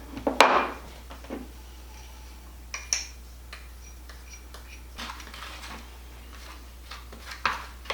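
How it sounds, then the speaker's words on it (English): A utensil mixes powdered sugar and peanut butter into a crumb topping, making light, scattered clicks and taps against a bowl at irregular intervals, fairly quiet and close. "So I'm just mixing it all up right now until I make crumbles."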